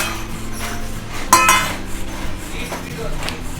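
Metal cutlery and a plate clink and clatter close by as fried onion kachori is served, with one sharp louder knock followed by lighter scattered taps.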